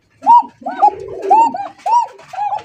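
Lahori pigeons cooing close by, a run of rounded, repeated coos in steady phrases with brief gaps, one bird's throaty rolling call overlapping another's.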